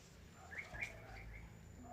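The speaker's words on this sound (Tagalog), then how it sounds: "May ibon po dumadaan" Brief chirps of birds passing overhead on a mountain, a few short calls near the middle, heard faintly over steady outdoor background noise.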